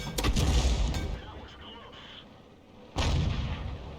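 Tank cannons fire in a World of Tanks battle, with a heavy booming shot at the start, a fading rumble, and a second loud blast near the end.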